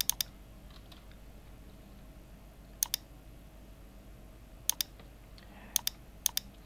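Typing on a computer keyboard, a few quick clusters of light key clicks separated by long quiet pauses, close and faint over a low room hum.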